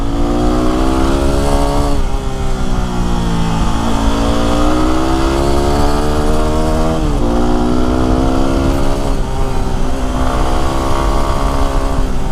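A Yamaha WR250R supermoto climbs uphill on Mount Hamilton, its engine droning loud and close throughout with rising and falling revs as the rider works through the gears.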